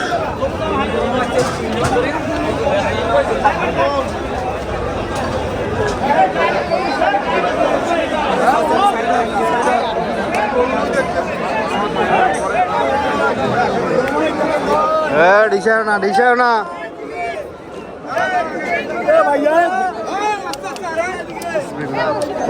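Dense crowd chatter at a busy cattle and goat market ahead of Eid sacrifice, with many overlapping voices forming a steady, loud babble. Some nearer voices talk over it throughout.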